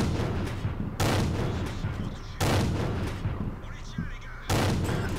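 Three heavy tank cannon shots in World of Tanks land about a second and a half apart, each a sharp loud blast that rolls into a long rumbling decay over constant battle noise.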